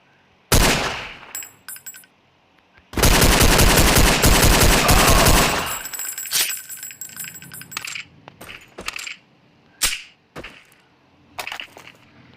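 Rapid, loud automatic gunfire from the Infinity X gun in Counter-Strike, with a short burst, then a sustained volley of about two and a half seconds, followed by scattered single shots and shell-casing clinks.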